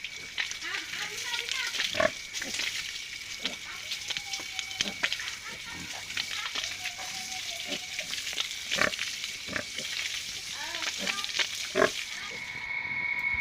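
Pigs on a pig farm in Assam grunt and squeal in scattered bursts, fairly close, mixed with splashing and a person talking throughout.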